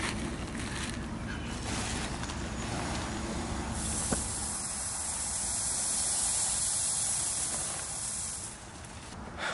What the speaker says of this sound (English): We just got done spraying a clover plot that we planted in the springtime